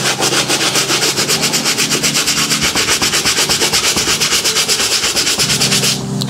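Brisk rhythmic scrubbing on an Air Force 1 sneaker, a brush rubbing back and forth in fast regular strokes, loud and close, alone without talk.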